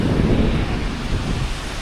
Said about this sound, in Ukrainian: На морі трішки хвиля є сьогодні.